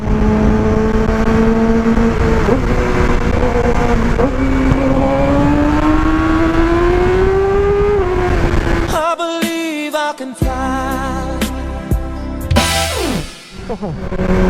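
A big bike motorcycle being ridden, its engine droning and climbing in pitch as it accelerates, then shifting into busier, choppier revving near the end.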